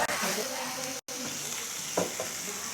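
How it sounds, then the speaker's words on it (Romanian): A hot dish boils and sizzles right at a restaurant table on Boracay, a dense, close, continuous frying hiss with a brief cut partway through. "Fierbe așa un pic la masă."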